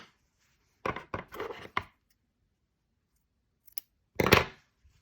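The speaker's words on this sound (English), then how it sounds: "I'm just going to snip this end and the other one over here" Scissors snip the loose yarn ends on a crocheted piece, giving a quick cluster of close, crisp cuts followed after a pause by one more sharp snip, with no talking.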